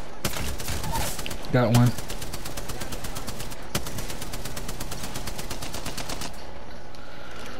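Rapid automatic gunfire in a battle royale shooter game plays in fast regular bursts through most of the stretch, loud and near, with a player briefly talking over it.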